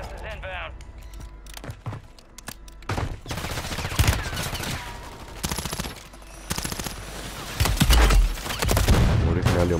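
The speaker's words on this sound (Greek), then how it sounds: "Μου ρίχνει άλλη ομάδα μου ρίχνει." Enemy squad gunfire in Call of Duty Warzone Resurgence on Rebirth Island, repeated loud bursts and scattered shots with distant booms, while a player talks urgently throughout.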